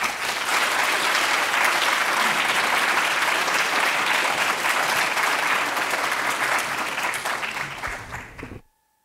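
Sustained audience applause greeting Professor Erik Jan Sluijter at a lecture on Dutch Golden Age art, a dense even roar of clapping that carries on for several seconds and then tapers off before silence.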